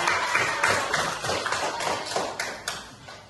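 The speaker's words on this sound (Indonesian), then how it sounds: "Beri tepuk tangan dulu untuk teman-teman" A group of primary school children claps together in a classroom in uneven bursts of sharp smacks, fairly close, with no talking over them.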